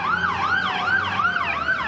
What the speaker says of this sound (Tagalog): Sunod-sunod ang dating ng mga truck ng bumbero mula sa BFP at Fire Volunteer